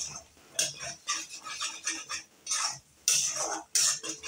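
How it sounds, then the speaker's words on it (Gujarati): A spoon scrapes and clinks around a pot as salt is stirred into an onion spice mix, a run of short, close, irregular metallic scrapes in quick succession. "તો મીઠાને આપણે એકવાર સરસ રીતે હલાવીને બધું ઓગાળી દઈશું."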